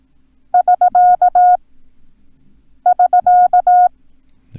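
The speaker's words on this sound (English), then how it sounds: "There's the S and the K." Morse code SK prosign played as a steady beeping tone: three short dits followed by dah-dit-dah, sent twice with a pause between, clean and alone.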